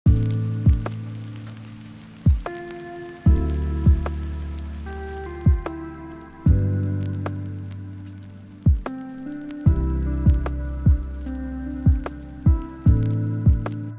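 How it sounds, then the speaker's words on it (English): Rain sample from a Cymatics sample pack, a steady patter layered under a lo-fi beat with repeating piano or keys chords, moderately loud and continuous without speech. "So let's add some absolutely classic rain sounds."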